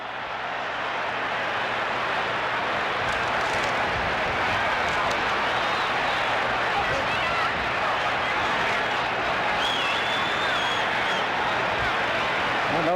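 A large boxing-arena crowd cheers and applauds Muhammad Ali's shuffle during his fight with Leon Spinks, a sustained loud roar of voices and clapping that swells in and fills the whole stretch.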